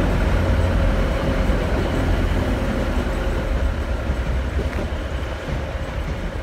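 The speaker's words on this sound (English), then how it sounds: "There's actually another train coming through here as well. And it is a 185." A Class 185 train at Deansgate station produces a steady, loud rumbling roar with faint rail clatter, sustained throughout as it passes by.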